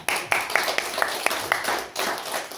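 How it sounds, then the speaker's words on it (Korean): A seated audience at a health product presentation gives a short round of scattered claps, distinct sharp hits close by that thin out and stop within a couple of seconds. "이분들 위해서 박수 한번 쳐주세요"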